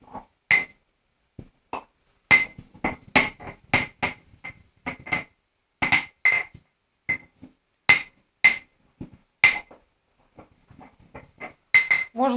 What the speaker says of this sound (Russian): шалфеечку мы тоже чуть-чуть положили, тоже растолчем. Перемелим, перемолим.